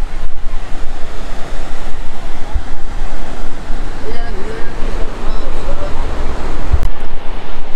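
Sea surf rolling onto Bagda beach, a steady broadband wash of waves with wind buffeting the microphone throughout, loud and close, with a person speaking briefly in the middle.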